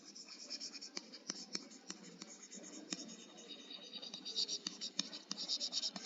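Pen writing and scratching across paper in a chemistry class, a steady run of small scratchy strokes with sharp ticks, close and fairly quiet, with faint background murmur.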